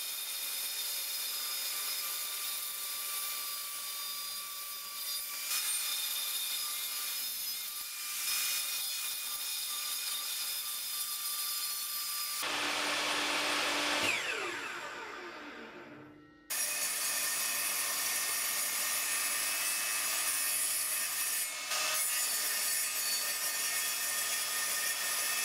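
A circular saw cuts wood for a DIY firewood lamp, a steady loud whine running for seconds that shifts in pitch, cuts off briefly, then resumes at full strength with no voices.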